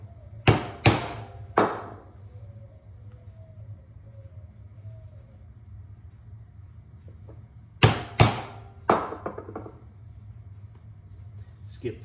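A pricking iron is hammered through a leather belt, with sharp, close mallet strikes that come in two bursts of three blows each, separated by a long quiet pause.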